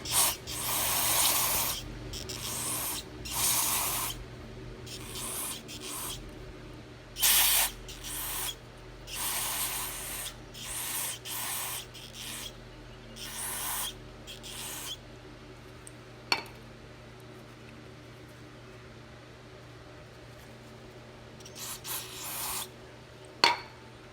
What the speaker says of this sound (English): Spray it off.